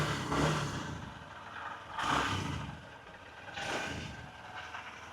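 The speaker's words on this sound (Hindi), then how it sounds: "ये देखो आइडियल कंडीशन पर इंजन साउंड, एग्जॉस्ट नोट, थोड़ा सा थ्रॉटल देता हूँ।" A Honda Shine 125 motorcycle engine idles and takes three short throttle blips, each swelling and falling back to a steady idle, heard close with no talk.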